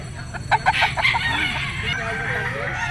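A fighting rooster crows at a busy Grotto pet market among birds sold for cockfighting: one loud, close crow over a constant murmur of market background noise.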